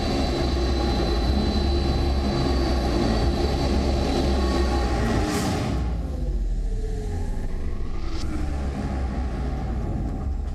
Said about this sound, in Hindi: अमेरिकी राष्ट्रपति जो बाइडेन का एयरफोर्स 1 तेल अवीव के बेन गुरियन इंटरनेशनल एयरपोर्ट पर पहुंचा